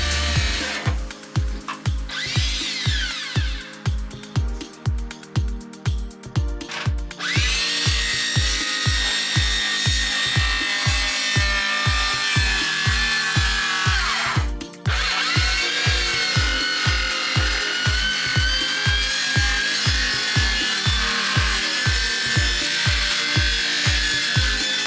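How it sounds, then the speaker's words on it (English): A saw fitted with a fine blade cuts fibreglass while repairing a boat's deadlight recess, giving a steady, rhythmic rasp of back-and-forth strokes, loud and close, with no talking. "I tried a different saw, equipped with a fine blade, and it didn't seem to help"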